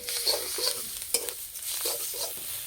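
Cauliflower leaves stirred and frying in a pan with coriander and a pinch of sugar, giving a close, steady sizzle broken by several scraping stir strokes, no voices.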